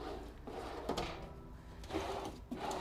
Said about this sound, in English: You've got some drawers here.